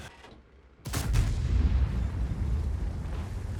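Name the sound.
tank gun firing a shot in the video game World of Tanks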